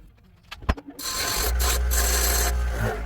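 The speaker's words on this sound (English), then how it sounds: "So now I'll grind these off." Grinding down metal parts of a mountain bike pepper spray holder: a few scraping taps, then a loud, steady power-tool grind runs close and continuous through most of the clip.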